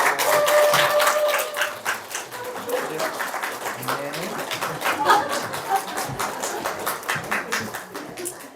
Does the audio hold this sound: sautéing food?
no